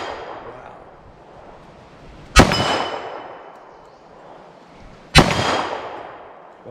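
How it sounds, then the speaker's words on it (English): Two sharp gunshots at 25 yards, about three seconds apart, each with a ringing metallic ping from a struck steel plate target and a decaying outdoor echo over quiet background noise. "Shoot at my steel plate."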